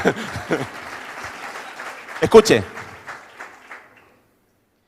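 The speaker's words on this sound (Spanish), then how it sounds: "hacía mucho que no me aplaudían" Applause from a seminar audience trails off while someone speaks over it, the clapping thinning out and fading to silence in the final second.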